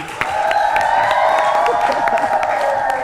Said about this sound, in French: On applaudit encore pour Blessy.